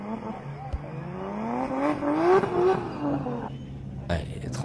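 A drift car on a soaked track at the Drift France final round at Val d'Argenton, held on the handbrake, gives a loud engine roar with rising and falling revs and some tyre noise. A commentator talks over it throughout.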